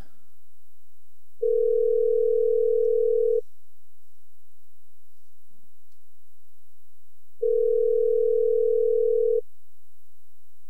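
A steady telephone dial tone sounds alone on a radio program line as a live call is placed, coming in two separate bursts of about two seconds each, with silence between them.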